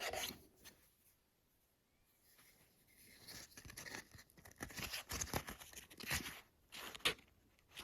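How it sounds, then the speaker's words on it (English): A fine 1/8 inch rat tail file works a slotted hole in a slingshot, giving quiet, scratchy back-and-forth strokes that start faint and build into a steady rasping rhythm. "now I'm going to pick up this 1/8 inch rat tail file"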